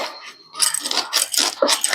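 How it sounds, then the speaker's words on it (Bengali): A knife chops a large dried hilsa fish into pieces, with several short, crisp cutting knocks close by on a hard surface and no talk. "এখন এই মাছটাকে পিস করে নেব"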